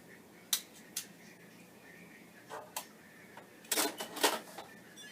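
A vintage tractor-feed printer hooked to a Commodore PET 8032 sounds faint, scattered mechanical ticks and clicks, with a few single taps early on and then a denser cluster of quick rattling strikes near the end.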